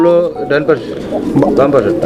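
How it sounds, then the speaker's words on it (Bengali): Bombai pigeons coo in low, throaty bursts nearby, mixed with people talking over them. "এটা হচ্ছে বোম্বাই কবুতরের একটা জোড়া"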